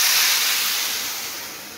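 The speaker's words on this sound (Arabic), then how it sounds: "هنحط على الرز المية السخنة" Hot water poured onto toasted rice in a pot, making a steady close sizzling hiss that slowly fades over nearly two seconds, with no talking.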